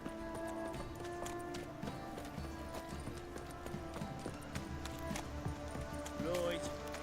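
Horse hooves clip-clop steadily in The Witcher 3, a clear rhythmic patter of steps set against a busy game soundscape with tonal music and occasional brief noises.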